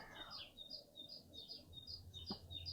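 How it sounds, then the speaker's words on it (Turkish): Small birds chirp and tweet in quick repeated high notes, faint and a little distant, over a low steady background hum. "bu sesi, bu kuş sesini kaçırdık"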